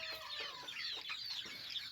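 Chickens in a poultry setup cluck in quick, overlapping bursts, faint and somewhat distant, with a busy mix of hen calls throughout and no talking.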